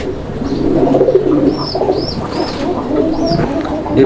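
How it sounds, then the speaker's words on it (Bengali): Fancy pigeons for sale cooing in a loft or cage area, several repeated soft coos close by over background murmur and rustle. "আর কবুতরের ডাক তো দেখতেই পাচ্ছেন একদম পুরাই পাগলা"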